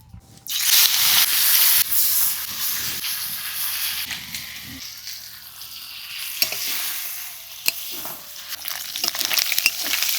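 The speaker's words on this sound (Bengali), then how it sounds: "এবার আমি চিংড়িগুলোকে নুন আর হলুদ মাখিয়ে ভেজে নেব।" Prawns coated in salt and turmeric hitting hot mustard oil in a kadai, a loud burst of hissing sizzle that settles into steady frying with occasional stirring clicks.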